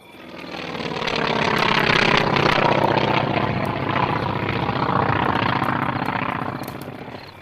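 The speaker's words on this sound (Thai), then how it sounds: "เสียงเครื่องยนต์ดังแรงขึ้นทุกขณะ" Several wartime aircraft diving out of the clouds, their engines roaring in a dense, sustained drone that swells loud and steady for several seconds before easing off, with no talking.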